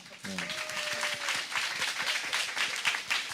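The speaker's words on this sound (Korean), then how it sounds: "박수 한번 주세요." Studio audience applause on a Korean talk show, a dense patter of many hands clapping steadily for a few seconds, heard close and fairly loud, with a brief spoken word at the start.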